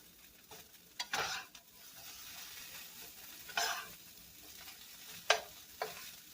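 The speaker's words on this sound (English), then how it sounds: "I'm going to flip those hash browns over." Flipped hash browns sizzling in a copper skillet: a low continuous fry broken by several louder bursts of sizzle and scraping as they settle, with no voices.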